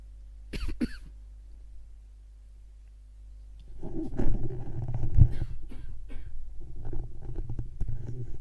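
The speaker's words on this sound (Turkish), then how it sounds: "Öksürük tuttu arkadaşlar kusura bakmayın." A single sharp cough near the start, then after a quiet gap a dense stretch of rough, throaty bursts that sounds like a run of coughing and throat noise.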